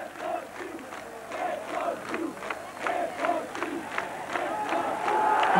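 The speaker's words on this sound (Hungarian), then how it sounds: "A közönség befut és ünnepli a soproni labdarúgókat." A football crowd at a Sopron match cheers after the final goal of a 5-0 win, a dense roar of shouting and chanting voices that swells in waves and grows louder toward the end.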